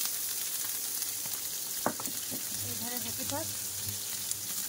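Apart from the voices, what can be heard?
chopped onion, ginger and garlic frying in pan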